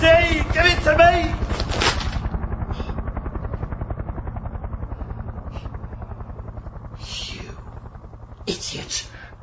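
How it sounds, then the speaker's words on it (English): A helicopter flies overhead with a steady, rapid rotor thudding that fades slowly, while people shout and talk over it at the start and end. "It's a helicopter"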